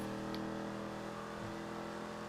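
A Dominator car in GTA 5 accelerates with a steady, droning engine note that holds through the short stretch, alone without talk.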